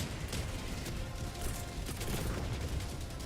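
Dense barrage of gunfire in the video game Helldivers 2, a steady wash of rapid shots and blasts running throughout with no voices.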